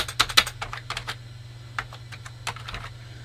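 Typing on a Sinclair QL computer keyboard: close, uneven clusters of sharp key clicks, a quick burst at the start and scattered taps later, over a steady low electrical hum.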